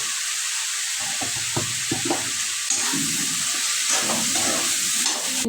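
Tomatoes with spices and a little salt frying in a pan for a dhaba-style paneer masala gravy, giving a steady close sizzle with scattered stirring scrapes and clinks throughout.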